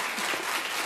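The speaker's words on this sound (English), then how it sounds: "Clap if you were offended by that." A television talk-show studio audience claps in a short, dense burst, like a quick round of applause. It is close and even, with no voices over it.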